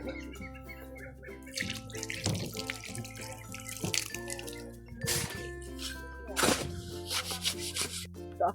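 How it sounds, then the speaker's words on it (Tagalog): Tap water running into a basin at close range, steady and moderately loud with splashing and dripping, alongside clatter and a few faint background sounds. "Kuha nga ako ng tubig."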